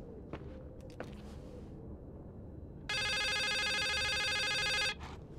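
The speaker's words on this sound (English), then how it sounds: "this phone is ringing." A telephone rings in The Suicide of Rachel Foster video game. One long electronic ring lasts about two seconds and comes after a few faint footsteps in a quiet room.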